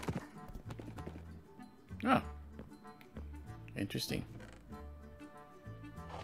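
Horse sounds from the video game Minecraft, hoof clip-clops and a brief whinny over a musical backing, with people speaking over it.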